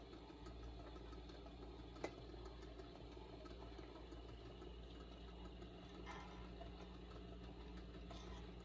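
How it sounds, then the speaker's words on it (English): The motor of a vintage Admiral 6F11n AM radio and record player runs with a steady, faint mechanical hum and whir, continuous and unchanging, with no talking. "Motor's running."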